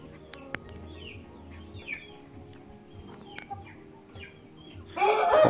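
Chickens and a young rooster in a backyard flock, clucking softly and intermittently at moderate distance over steady ambient noise, with a louder, denser burst of fowl calls near the end.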